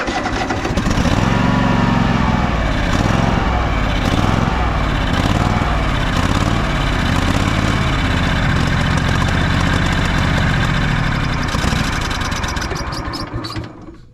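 The engine on a Craftsman DYS4500 riding mower runs loud and rough, surging and faltering unevenly for several seconds before it dies away at the end.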